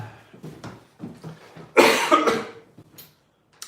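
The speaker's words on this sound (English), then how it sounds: "I'm also a little sick, so I'm coughing." A person coughs several times close up, a few small coughs followed by one harsh, louder burst, then quieter follow-up coughs.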